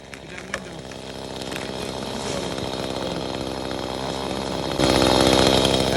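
A chainsaw runs steadily and loudly while felling a tree in Glade Valley, North Carolina, its droning whine swelling louder near the end.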